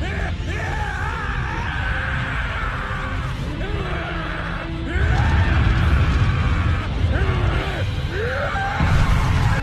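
Goku and Vegeta scream while powering up in their Ultra forms in an anime fight, sustained loud yelling and groaning voices rising in strained bursts over a rumbling energy roar that swells louder midway.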